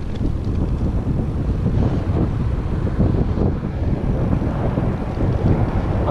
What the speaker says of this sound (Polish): Tak, podjeżdżaliśmy trochę pod ten wiatr.